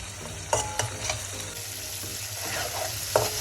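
Tomato masala for egg curry stir-fried in a pan, giving a steady sizzle with a low hum underneath and occasional sharp spatula scrapes against the metal.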